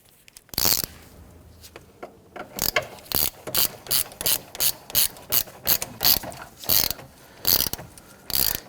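Ratchet wrench clicking as it snugs down the battery hold-down retaining bar on a Kia Sorento, a series of sharp, close ratcheting bursts in a steady rhythm with short pauses between strokes, no talking.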